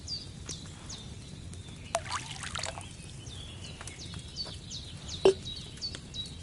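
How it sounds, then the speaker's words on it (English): Liquid poured into a cauldron in Kingdom Come Deliverance 2, a soft trickling and splashing over a quiet room ambience, with faint bird chirps in the background and a brief sharper clink near the end. "First, you have to pour the right base into the cauldron."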